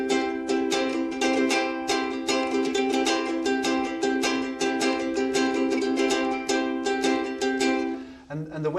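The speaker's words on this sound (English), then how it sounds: "We can do a roll with the thumb, and that, when it's played as part of the split stroke, it'll sound like this." Ukulele strummed in a split stroke with a thumb roll, a quick rhythmic stream of bright strums repeating steadily, close and clear, alone without talking.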